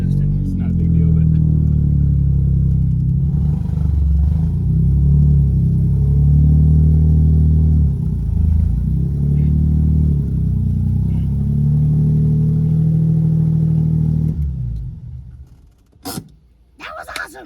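Engine of a project car revving under load with a poorly adjusted clutch that barely engages for gear shifts; a loud, steady rumble with rising and falling revs that cuts off near the end, followed by brief sharp noises.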